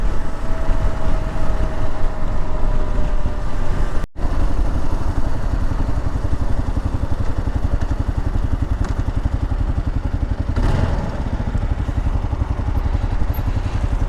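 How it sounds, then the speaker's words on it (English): Kawasaki KLR dual-sport motorcycle being ridden, its engine droning steadily under heavy wind rush for the whole stretch, with one brief dropout partway through. "the KLR is dialed in, man. Riding well."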